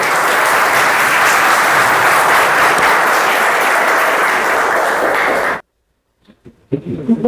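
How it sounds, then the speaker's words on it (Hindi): An audience of students claps loudly and continuously for over five seconds before the applause cuts off abruptly into silence, followed by a speaker starting to talk. "और एक बार अपने लिए ताली बजा दीजिए जोर से।"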